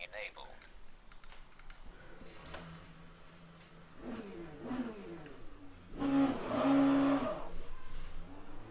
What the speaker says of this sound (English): That was an LMP2 flying by.